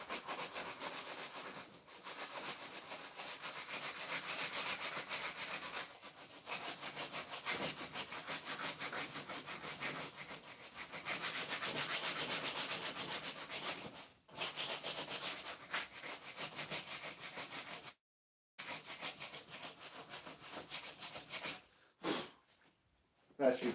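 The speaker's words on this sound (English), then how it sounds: "Let me grab some of that 80 grit sandpaper," Sandpaper of 80 grit rubbed by hand across a car dash, a steady scratchy rasp in long continuous strokes with brief pauses, close and fairly loud.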